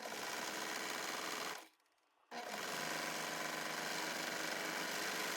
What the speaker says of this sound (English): I'm going to serge and clear to like right here